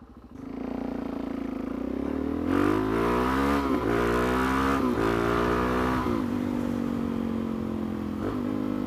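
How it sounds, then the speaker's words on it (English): A supermoto motorcycle engine idles close by and is revved repeatedly, with five or six sharp throttle blips rising over a steady, throaty idle. "It is brutal, this bike. But that's what supermotos are for."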